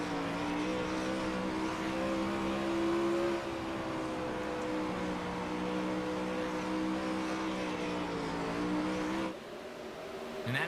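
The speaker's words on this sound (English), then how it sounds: "Zach J. Miller all the way to the back bumper of the 42 machine of Tyler Wilson." 360 sprint cars racing around the Bristol dirt track: a fairly quiet, continuous drone of engines holds steady, then drops off abruptly near the end.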